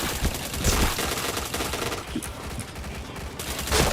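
Rapid video game gunfire crackles through a dense, continuous bed of shooter sound effects, with bursts of shots and impacts layered close and loud, no voices.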